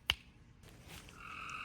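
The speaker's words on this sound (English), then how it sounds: "And you can hear that frog in the background." A frog croaks in the background of a summer garden in Kentucky, one sharp call near the start over a quiet, faintly noisy outdoor backdrop.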